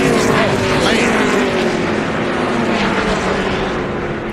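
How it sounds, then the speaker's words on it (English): Loud, continuous roar of a NASCAR truck at speed on a Dover oval, with engine whine holding steady across the clip as the truck loses a tire and slides toward the wall; no distinct separate pop stands out. "You can hear the tire explode"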